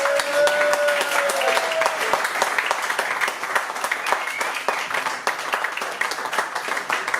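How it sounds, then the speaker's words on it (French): A concert audience applauds a performer named Lucie in Nice, dense steady clapping filling the whole stretch at a fairly loud, even level with no clear voices on top. "que l'on applaudisse très très fort Lucie"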